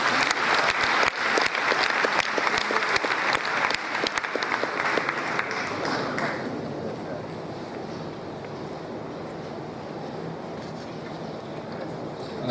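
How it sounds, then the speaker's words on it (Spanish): Audience applause at a panel event on Jewish life with rabbis, a dense burst of clapping for about six seconds that fades to a softer room murmur with scattered claps. "Un aplauso por favor para el rabino."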